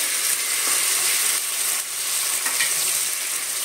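Ginger garlic paste fries in about a bowl of hot oil for a chicken biryani gravy, giving a dense, steady, bright sizzle close up with no voices.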